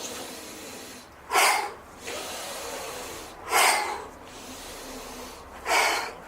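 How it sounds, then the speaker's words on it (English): Three forceful, quick exhales in a breathing exercise, evenly spaced a couple of seconds apart, each a loud, breathy burst over faint background noise. "As you throw it down, you breathe out as quick as you can."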